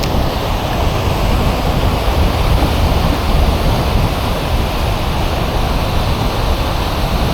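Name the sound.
fast-flowing water of the Fox River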